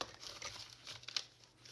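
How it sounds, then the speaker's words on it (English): Paper is folded and cut for a junk journal trifold, giving quiet, close crinkling and a few soft rustles and snips in a brief burst. "let's just fold it again, and then cut off the excess."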